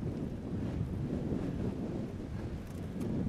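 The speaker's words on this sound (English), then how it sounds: "And we've got a headwind." Steady, loud wind buffeting the microphone during a cold, foggy descent into a headwind on an old 1992 Raleigh Pioneer bicycle, a continuous roar with no voices.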